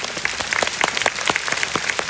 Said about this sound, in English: Can we give Nicholas a big round of applause?